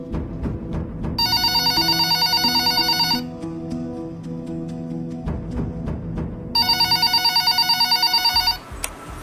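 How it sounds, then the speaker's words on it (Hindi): A telephone rings in two long electronic bursts separated by a pause, loud and close, over a steady background of music and ambient noise. "अरे देखो किसका फोन आ रहा है भाई"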